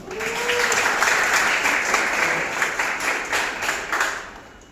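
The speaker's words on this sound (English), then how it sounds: "let's hear a round of applause for yourself" Participants at a Model ASEAN meeting applaud themselves, a full, even wash of many hands clapping that swells early, holds steady, and tapers off toward the end.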